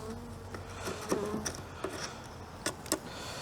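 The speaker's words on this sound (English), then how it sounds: "So the top box is currently full of bees." Honey bees buzz close around an opened hive during a spring inspection, a low continuous drone with individual bees whining past, plus a few sharp knocks and clicks from handling the boxes.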